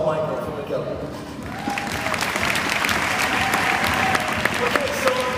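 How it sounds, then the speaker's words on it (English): Audience applause for a guest introduced at a 2014 TIGI world release tour hair and fashion event in Berlin, steady clapping from a sizable crowd building and sustaining across the clip, with a presenter's voice heard at the start. "Big round of applause for Michael from McKelly."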